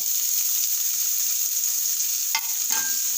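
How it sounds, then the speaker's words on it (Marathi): Chopped onion, green chili and spices sauté in a pan, a dense steady sizzle heard close and alone, with a couple of brief spoon scrapes near the end. "हे सगळं छान परतून घ्यायचं आहे"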